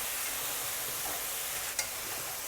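Noodles for Hong Kong style soy sauce chow mein are tossed in a hot wok with dark soy sauce, a steady loud sizzle and hiss with a brief scrape near the end.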